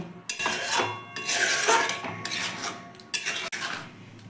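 A spoon scrapes and rattles against a cooking pot as chopped cashews are mixed into a tomato, date and mango-leather chutney, in a few close, busy strokes separated by short gaps, with no voices.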